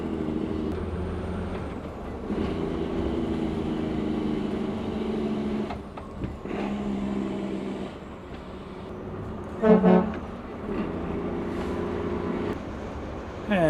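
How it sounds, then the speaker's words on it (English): Exhaust brake on a 2002 Prevost Country Coach XL2 40-foot motorcoach, a deep droning engine rumble that holds for several seconds, drops off, then returns in repeated stretches while driving on the road. "Man, I love the exhaust brake"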